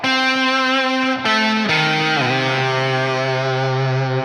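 Solo electric guitar on the bridge pickup with the tone knob fully open rings out in a sharp, bright distorted tone, a short phrase of held, bending notes played alone.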